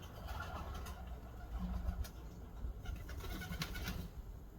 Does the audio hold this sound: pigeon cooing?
yes